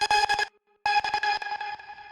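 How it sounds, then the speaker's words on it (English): A bright, harmonically rich techno synth pad plays in short rhythmic stabs for hyperpop, cutting out briefly, then returning and slowly fading, with no voices. "Next we have Star Pad, which is just a simple techno sound."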